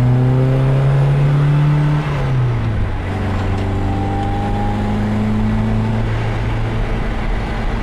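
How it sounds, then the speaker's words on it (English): A 1966 MGB GT engine with twin SU carburettors hums steadily at close range, its exhaust note dropping in pitch and then settling into a smooth, even drone. "The exhaust note is perfect in this car. Has a really nice tone to it."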